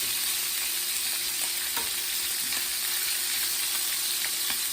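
Beef short ribs sizzle and fry steadily in a hot pan as they brown for braising, a dense continuous crackle close by with occasional sharper pops, no talking.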